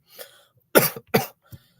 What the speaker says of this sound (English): Holding in that cough for a little bit.